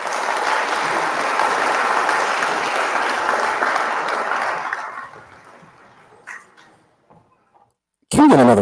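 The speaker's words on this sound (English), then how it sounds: "Can we get another round of applause for Kansas City?" A lively crowd claps for Kansas City, a steady burst that fades out over several seconds into near silence, and then a voice comes in abruptly.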